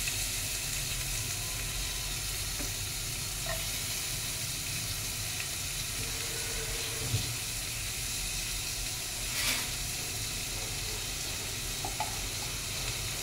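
Chopped onion frying in hot mustard oil in a karahi, a steady close sizzle with soft hiss and crackle throughout, occasional small stirring clinks, no voices.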